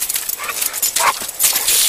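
A pet dog named Shade, outdoors near an alligator, makes brief scuffling, breathy noises close by in short irregular bursts.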